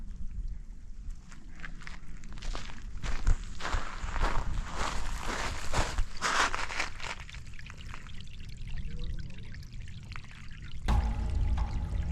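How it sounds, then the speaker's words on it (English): Water runs and trickles at a stream crossing on a hiking trail at Enchanted Rock, a continuous pouring burble mixed with crunching footsteps on the trail. "I can still hear the water running down in there."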